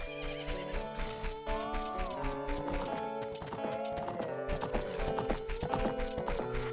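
Horses clip-clop in Zelda: Ocarina of Time, steady hoof taps with a neigh over the game's looping background music, rhythmic and close with no talking.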